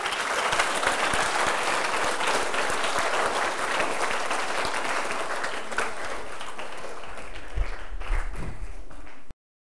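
A studio audience at a seniors' talk-show gives a warm round of hand-clapping, a full, continuous burst of applause that holds steady for nearly ten seconds before cutting off abruptly.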